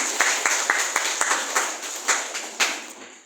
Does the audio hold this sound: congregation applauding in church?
yes